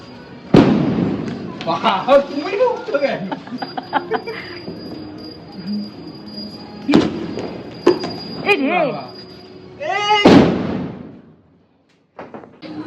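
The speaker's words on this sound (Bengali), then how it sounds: "প্রথমের বাজিটাই ফুস হয়ে গেছে" A Kali Puja firecracker sputters and bursts close by in a few sharp, harsh blasts separated by pauses, while excited voices talk and shout between them.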